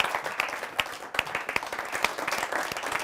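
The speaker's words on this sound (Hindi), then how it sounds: "तालियों के साथ स्वागत करते हैं" An audience at a Hindi comic poetry gathering breaks into steady, lively clapping to welcome a poet on stage, the applause full and continuous with a few sharper claps standing out.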